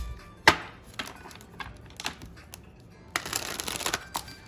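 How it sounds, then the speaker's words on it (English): Tarot cards being shuffled by hand, with sharp riffling snaps and taps in irregular bursts and a longer flurry of shuffling near the end, heard alone without talk. "shuffle these cards real quick, and then we'll start."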